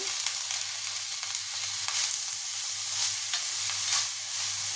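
Boiled cabbage with salt and turmeric fries on a high flame, giving a steady, close hiss and sizzle with light stirring scrapes throughout.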